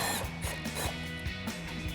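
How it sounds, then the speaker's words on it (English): An impact driver with an 8mm socket runs out the lower grille mounting screws on a 2021-2023 Ford F-150. It gives a steady close-up mechanical whir with rapid repeated hammering pulses and a faint metallic squeal. "So we've got our 8mm socket on our impact."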